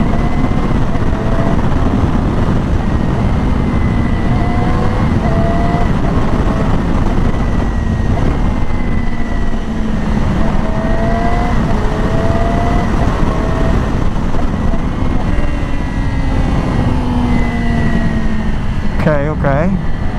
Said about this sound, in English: I'm just gonna go like through some shifts up and down since I adjusted a lot of things just to see.